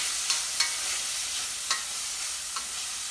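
Corn, carrots and zucchini sizzling in a hot pan, with a spoon scraping and stirring in a few sharp clicks over a steady frying hiss.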